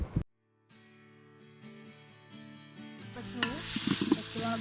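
Garlic, ginger and shallots fry in hot oil for biryani, a soft sizzle that grows louder and crackles toward the end as stirring scrapes in, with a musical tone running underneath.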